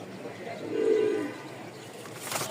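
Fancy pigeons with very large, heavy feathers, kept for sale in Mirpur, Dhaka, give a single soft, low coo near the middle, close by over a quiet room hum.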